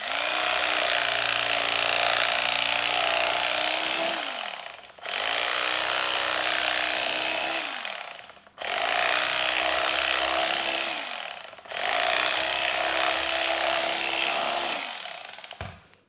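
Long sawing strokes of a knife slicing cooked meat for a Reuben sandwich, four steady back-and-forth passes each lasting a few seconds with short gaps between, close and loud with no talking.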